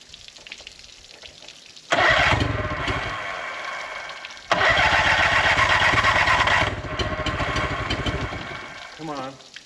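Old boat engine that had sat for three years, cranking and catching, then running loud and rough in two bursts with a short dip between, close by.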